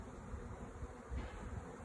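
Honeybees swarm around a queen cage while being installed into a hive, making a faint, steady, low buzzing drone heard alone without speech.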